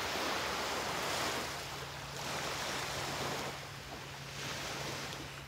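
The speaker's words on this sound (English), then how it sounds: "There's a little bit of wind, but certainly nothing beyond a relaxing, gentle breeze, which is nice." A gentle breeze blows outdoors on a mild day by calm water, a steady broad rush of wind and soft lapping swells with no voices.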